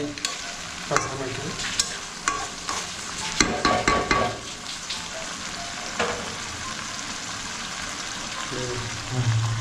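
Homemade desi goat mutton is sautéed in a pan, with a continuous background sizzle broken by repeated scraping and clattering stir strokes, a dense burst of them near the middle. Faint voices may be present underneath.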